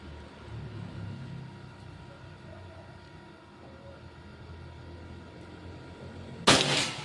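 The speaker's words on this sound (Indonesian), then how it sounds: "Tembakan kedua." A Predator Pajero Gen 6 air gun fires once outdoors with a sharp, loud crack near the end, after several seconds of faint, low ambient rumble.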